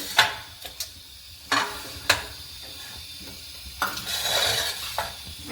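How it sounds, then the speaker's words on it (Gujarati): Mustard seeds and cumin crackle in hot oil for a khichdi tempering, a close sizzle broken by sharp clanks and scrapes of a spoon against the pan at irregular intervals. "પછી એમાં નાખવાનું છે રાઈ જીરું"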